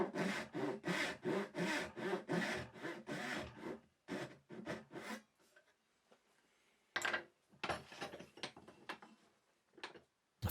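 Hand saw cutting wood along a knife line for tenons in a Japanese-style toolbox build, close rhythmic push strokes in a steady run, a pause, then a few more bursts of strokes.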